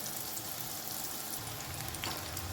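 Eggplant pieces fry in oil with a soft, steady sizzle and crackle, close but fairly quiet, continuous throughout the brief stretch with no talking.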